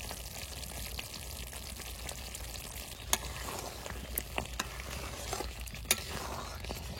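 Kashmiri aloo dum finishing in a pan with ghee, a soft continuous sizzle and frying hiss with occasional sharp clinks of a spoon or ladle against the pan.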